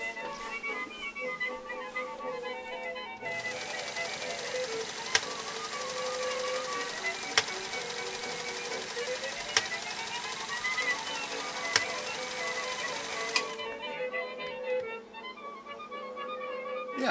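A PFAFF 332 West German sewing machine runs steadily for about ten seconds, a fast mechanical whir and needle clatter close up. Quieter handling sounds come before and after the run.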